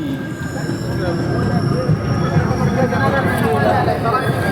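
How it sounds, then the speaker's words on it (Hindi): Express train no. 22847, the Visakhapatnam–Mumbai LTT superfast, rolling into Kanta Banji railway station: a steady, dense low rumble of wheels and carriages with faint squeals, with crowd babble mixed in, continuous and fairly loud throughout. "मात्र 2 मिनट की देरी से हमारी ट्रेन पहुंची है कांटा बांजी।"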